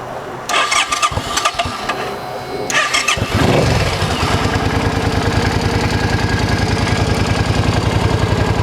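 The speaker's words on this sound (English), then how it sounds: "Let's see what she sounds like here." A Suzuki Boulevard C50 motorcycle with factory exhaust cranks with a whirring starter, catches and settles into a loud, close, steady idle with an even rhythmic putter.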